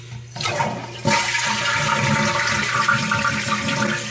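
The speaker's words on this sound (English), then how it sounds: "we're going to flush this puppy" A toilet fitted with a Korky Quiet Fill universal repair valve flushes loudly and close, a sudden rush of water surging after a brief lead-in and draining steadily without pause.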